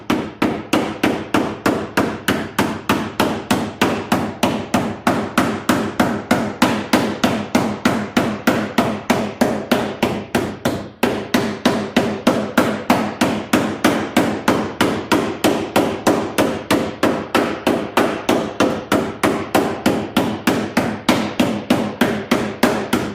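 Steady, rhythmic hammer blows ring out loudly and close, dozens of evenly spaced strikes with a brief pause midway.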